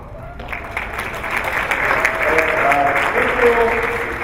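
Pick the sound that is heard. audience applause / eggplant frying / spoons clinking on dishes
audience applause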